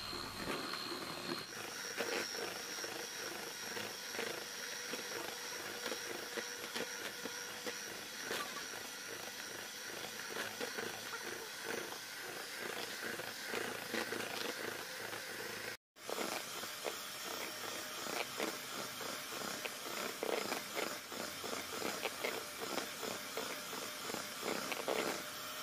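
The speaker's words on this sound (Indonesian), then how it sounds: "Di sini kuning telurnya dimixer dengan gula halus sampai mengembang" An electric hand mixer whips egg yolks with powdered sugar, a steady high buzzing whir that runs continuously at close range, with one brief dropout partway through and no talk over it.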